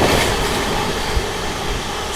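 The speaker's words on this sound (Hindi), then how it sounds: "ट्रेन अपनी स्किप करने जा रही है इटावा जंक्शन" Amrit Bharat Express running through Etawah Junction without stopping, a loud continuous rumble and roar of the moving train heard close, with faint wheel clatter.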